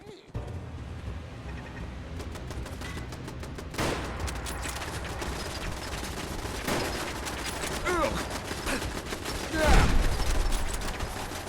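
Machine gun fire in Fallout London: sustained rapid bursts of automatic gunfire, loud and dense, running almost the whole time, with a few heavier blasts, while someone speaks over it.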